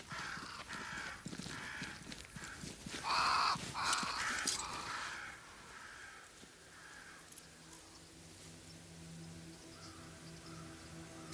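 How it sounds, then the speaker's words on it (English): Several crows caw in Banishers: Ghosts of New Eden. The harsh calls come in a burst over a soft, rain-like background wash, then fade to quieter ambience. There is no speech. "Crows. They flock to that great tree up there."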